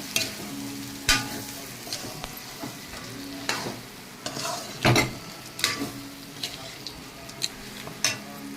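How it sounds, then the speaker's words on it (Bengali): Lightly fried crab goes into a sizzling masala in a pan, the frying hiss under repeated sharp spatula clinks and stirring knocks at an uneven rhythm. "আমি কষানোর ভিতরে কাঁকড়াটা দিয়ে দেবো।"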